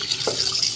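Running tap water splashes over pieces of fresh katla fish being washed in a kitchen sink, a short steady close stream with a brief splash near the middle.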